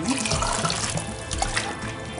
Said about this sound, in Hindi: थोड़ा सा पानी ऐड कर रही हूँ,